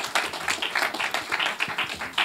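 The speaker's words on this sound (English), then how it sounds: "Big round of applause also for Mark." Applause from an audience at a finance and AI tech showcase stage event, quick overlapping claps in a soft rapid patter, fairly faint and distant.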